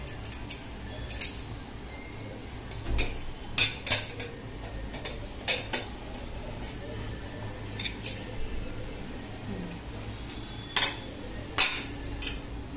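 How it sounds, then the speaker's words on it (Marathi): Sharp metallic clicks and clanks of a pressure cooker lid being worked open, irregular knocks of steel against steel in a quiet kitchen. "आपण कुकर उघडूया आता."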